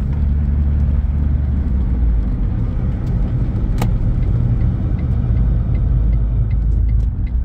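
A rebuilt first-generation Smart car engine grumbling at a low, steady idle, a constant deep rumble with a single faint click partway through.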